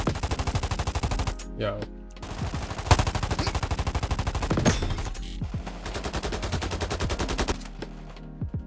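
AK rifle fire in a Roblox shooter game comes in rapid automatic bursts of sharp, loud cracks with short pauses between them, and a voice speaks briefly.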